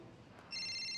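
A telephone begins ringing halfway through, its electronic tone sounding steady and clear after a short quiet stretch.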